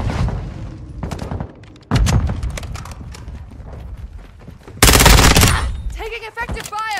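Rapid bursts of automatic gunfire crack loudly and near in a Modern Warfare 2 Hardpoint match on La Casa with an ISO 9mm, separated by short pauses and ending in a dense, rattling volley.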